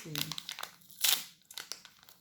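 Paper crinkles and tears as a small wrapped envelope sealed with a sticker is opened, with a sharper burst of crumpling midway and soft handling noise around it, while a voice speaks.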